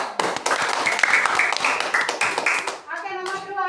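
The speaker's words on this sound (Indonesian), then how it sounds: "tepuk tangan dulu" A classroom of primary school children claps hands together in a burst of dense, overlapping applause lasting a few seconds. A voice then speaks near the end.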